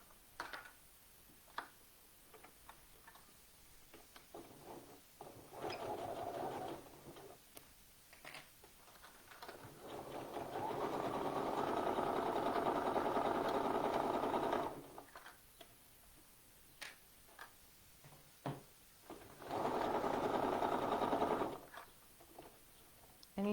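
A sewing machine stitches a knit armhole, starting at the underarm, in two sustained runs of steady mechanical whirring, the second shorter, separated by quieter clicks and handling noises.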